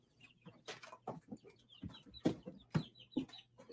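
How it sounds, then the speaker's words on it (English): Chicken clucking in short bursts, several clucks spaced irregularly over a few seconds, fairly close with a low steady hum beneath. "There's a chicken over there."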